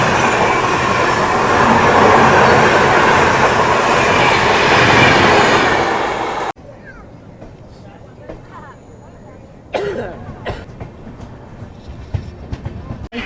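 The Kacheguda–Bhagat ki Kothi Express roars along loudly with rumbling and clattering wheels, then the sound drops to a quieter cabin interior with rhythmic clicks and occasional bursts of rail noise.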